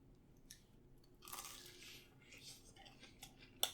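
Faint, close crunching bites and chewing of Popeyes fried chicken, a few crisp crackly bursts spread across a quiet background.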